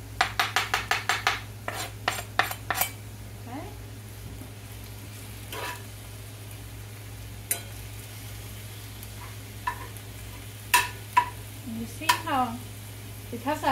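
Chopped beef sizzles in a hot pan while a spoon breaks it up. A quick run of hard taps opens, then scraping, stirring and scattered knocks sit over a constant low hum.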